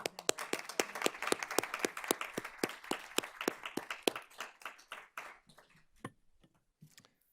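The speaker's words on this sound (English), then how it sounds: "So let's give them a round of applause." A round of applause at a school district board of trustees meeting: clear individual claps from a small group, brisk at first and then thinning to a few scattered claps.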